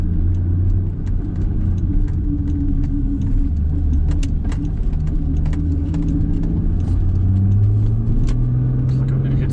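Car with a new downpipe and catalytic converter drives along, its engine a steady low drone with gradual pitch rises as it accelerates, while a person talks over it.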